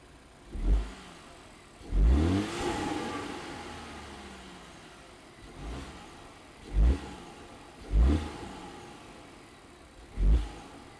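A 2019 Volvo XC90 engine fitted with a silicone intake tube revs in repeated short bursts, each a deep throaty surge that rises and falls back to a steady idle, recorded close up with no talking.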